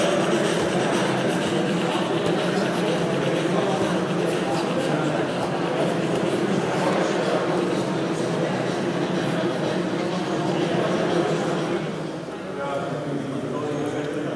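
A Spur 1 gauge model train runs at a large model railway meet in Munich, giving a steady, continuous rolling rumble that eases slightly near the end while people talk over it.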